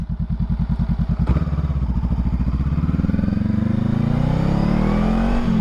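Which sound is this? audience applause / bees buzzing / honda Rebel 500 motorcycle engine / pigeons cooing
honda Rebel 500 motorcycle engine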